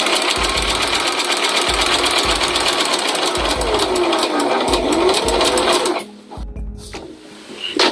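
Rapid, steady chatter of a sewing machine stitching a costume glove for a Mystique cosplay, loud and close with a rhythmic mechanical pulse, then stopping abruptly and stuttering in short bursts as the work is advanced slowly.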